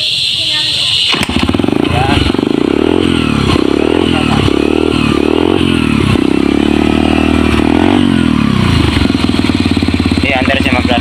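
A Yamaha XTZ 125 motorcycle engine, fitted with a converted Mio Sporty CDI, starts after a second and runs loudly up close. It revs in repeated surges with clattering mechanical noise, and voices talk faintly underneath.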